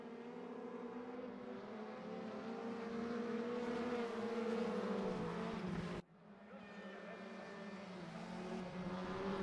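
Alfa Romeo TCR touring cars racing nose to tail in the SimRacingGP sim racing game at Norisring, with a steady engine roar that swells, cuts off abruptly, then resumes at a fairly low level.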